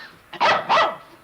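A farm dog in a rural sitcom courtroom scene gives two loud, close barks in quick succession, with no talk over them.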